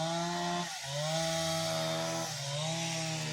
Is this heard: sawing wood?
yes